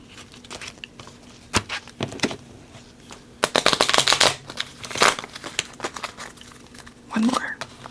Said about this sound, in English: I get to shuffle, and then I'll put my money away